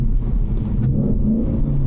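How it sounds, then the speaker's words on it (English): A Ford Mustang engine revs sharply during a rev-matched downshift while being driven in winter conditions. The rev is loud and close, with a dense low engine drone filling the whole stretch. "That was not my best rev matching downshift"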